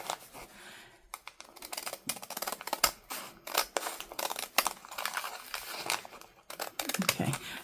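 Scissors cut close up through a paper sack, snipping in quick uneven bursts mixed with rustling and crinkling of the stiff paper.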